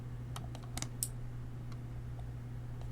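Relay module on a NodeMCU ESP8266 board switching an AC bulb load, giving a few sharp clicks early on over a steady electrical hum, then quieter.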